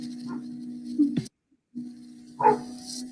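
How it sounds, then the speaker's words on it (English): A pet dog barks a few times from another room, sharp yelps rising over a steady low hum, with a short silent gap midway before another bark. "I can hear my dog barking"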